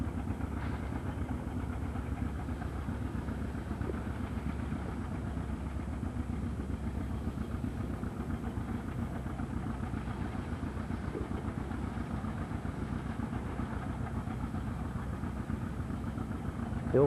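An old threshing machine runs at a 1985 threshing demonstration on a farm, giving a steady mechanical rumble and chatter that carries on without a break throughout.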